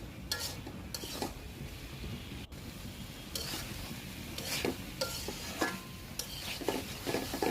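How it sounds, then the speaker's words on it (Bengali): Shredded cabbage fries uncovered in a pan until dry, a steady close sizzle broken by repeated scrapes and clinks of a spoon stirring against the pan. "ভেজে নিচ্ছি বাঁধাকপিটা, একদম শুকনো শুকনো করে ফেলবো"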